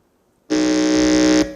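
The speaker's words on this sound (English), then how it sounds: "Let me hear your buzzer." A quiz contest buzzer is tested at a school quiz qualifier: one loud, steady electronic buzz sounds for about a second after silence, then cuts off.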